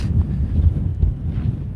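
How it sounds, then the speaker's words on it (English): Heavy wind buffets the microphone in a constant low rumble with gusty thumps, no voices heard. "wow, it's really windy"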